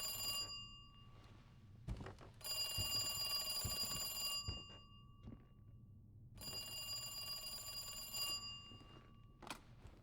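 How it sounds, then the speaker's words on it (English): A telephone rings in Resident Evil 2 Remake, two long bursts of bright electronic bell trilling separated by a quiet gap, with thumps and faint game ambience between. "a phone ringing"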